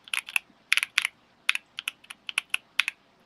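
Clacky mechanical keyboard keys typed in quick uneven bursts, each keystroke crisp, close and distinct, with short pauses between clusters and no talking.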